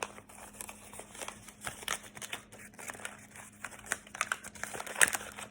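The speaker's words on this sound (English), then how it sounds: "You fold it in half, and then you fold it in half again, give it your nice good creases, and then you open it up." Thin paper being folded in half twice and creased into a cootie catcher, then opened, giving close, soft crinkling and rustling with sharper crackles near the end.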